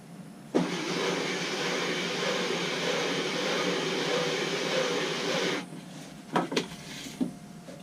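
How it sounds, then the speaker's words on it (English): Sanding glued open wood segments spinning on a lathe, a steady close whirring rasp that holds for about five seconds and then stops, followed by a few sharp knocks. "Now I'm going to sand it now to make sure it's perfectly flat."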